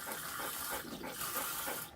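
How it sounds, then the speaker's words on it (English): Water from a home tap runs steadily into a sink or tub while warming up for bathing a poodle, a continuous close splashing rush with no talk. "I let the water run to make sure I'm getting my right temperature"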